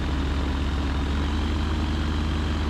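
Steady, loud drone of a Super Petrel amphibious aircraft's propeller engine running on a lake, a constant low hum with a rough buzzing edge that holds unbroken throughout.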